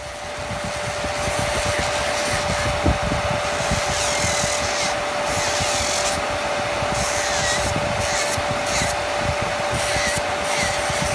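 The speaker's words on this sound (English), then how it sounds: "use my e-file and an old acrylic sample" An electric nail file grinds steadily against an acrylic nail sample while a nail dust extractor fan roars loudly and continuously close by, with faint scraping bursts rising above the drone.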